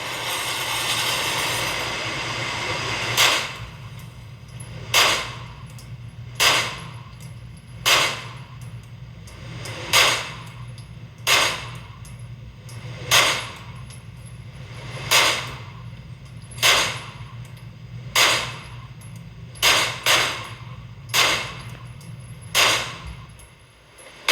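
Walther pistol firing a full magazine at a range, about fourteen sharp, loud shots at a steady roughly one-and-a-half-second pace, with a low steady hum underneath.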